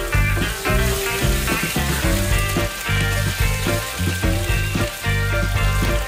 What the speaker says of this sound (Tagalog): Pag mainit na ang mantika, egisa na ang sibuyas at ang bawang.